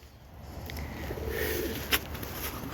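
A runaway tumbler pigeon coos steadily while on the wing. The soft, close calls run through most of the moment and end in one brief louder flutter.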